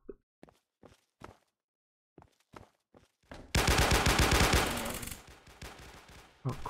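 Automatic gunfire erupts in a Roblox zombie shooter game, a sudden loud sustained burst of rapid shots after several seconds of quiet footsteps, then fading and a final shot.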